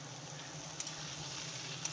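Soybean chunks cooking in a pan of fried-down masala for a soybean and potato curry, a faint, even sizzle held low and steady, with a couple of tiny pops and no voices.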